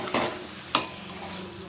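A spoon gives two distinct scraping strokes through ash gourd and prawn curry in a pan, over a light background sizzle, close and short.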